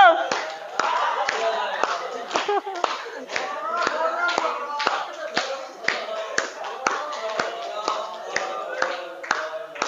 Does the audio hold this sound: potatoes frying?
no